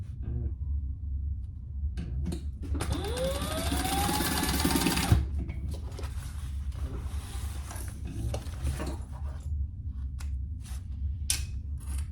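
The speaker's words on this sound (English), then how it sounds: "And we're basting them on the top zipper." Sewing machine stitching a strap onto the top zipper of a triple-zip crossbody bag, a steady close-up mechanical whir that swells loudest in the middle, then gives way to softer handling rustles and clicks.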